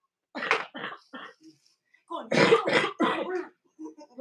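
A woman coughs in two close bursts, a short series of coughs followed after a pause by a louder, harsher run of several more, in a quiet indoor kitchen setting.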